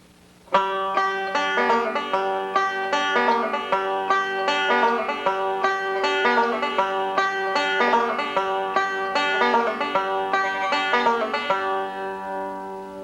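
A bluegrass banjo repeats a tag lick as a tape loop, a steady stream of bright plucked, rolling notes with a ringing drone, close and clear, and no voices over it.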